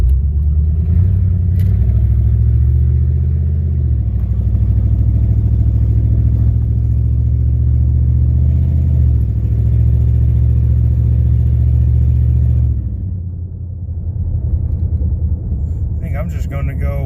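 An old vehicle's engine runs steadily while being driven across a field, a loud low rumble that holds with slight rises in revs before easing off near the end, with someone talking over it.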